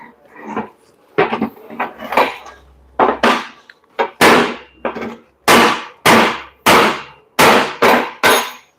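A hammer strikes a punch against a Nissan MT 3000 leaf spring resting on a wooden block, a series of about a dozen loud, ringing metallic blows, irregular at first, then settling into an even rhythm.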